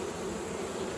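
Honeybees hum steadily around an open hive being split for a new queen, a dense, continuous buzz filling the air close by with no voices.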